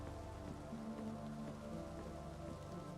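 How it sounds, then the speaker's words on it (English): Steady rain falls continuously in the Kathy Rain 2 video game, a dense even patter on surfaces outdoors near a cabin, with a low steady ambient hum underneath and no talking. "It's raining."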